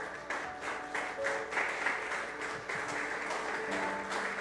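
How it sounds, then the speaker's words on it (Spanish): A church congregation claps together, a steady, dense round of applause lasting several seconds at moderate loudness, with no voices over it. "Denle un aplauso al Señor si usted entendió eso."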